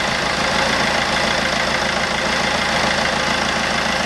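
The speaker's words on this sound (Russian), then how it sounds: "Двигатель запустился." Fiat Doblo Cargo 2008 van with a 1.3 Multijet diesel engine, freshly replaced, running at a steady, close idle with a constant rough clatter and a slight uneven shake, no voices.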